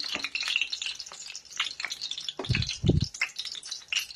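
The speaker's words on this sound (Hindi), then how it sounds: "जब तक ये भुने नहीं अच्छे से इसको भून लेना है" Food roasting and sizzling in a pan as it is stirred, with a steady crackle and a few deeper scraping clunks of a spoon against the pan, close by.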